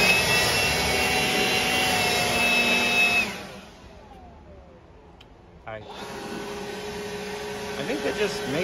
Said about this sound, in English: Leaf blower.